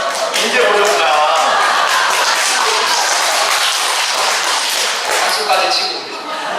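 A church congregation at a lay members' retreat claps together, a loud, dense wash of applause that holds steady throughout, with voices mixed into the crowd.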